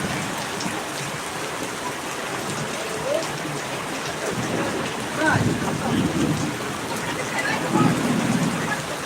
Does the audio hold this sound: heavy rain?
yes